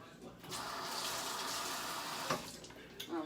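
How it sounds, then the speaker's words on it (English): Water runs from a kitchen tap while hands are washed, a steady close splashing gush lasting a few seconds. "gonna wash my hands."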